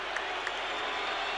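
Collingwood supporters in a packed stadium at a 1980 VFL night match, a dense steady roar of the crowd with a couple of faint sharp calls standing out.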